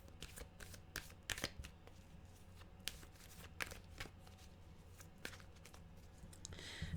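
Tarot cards being shuffled by hand, a run of crisp riffling and soft slapping bursts in an irregular rhythm, close and fairly quiet with no talk.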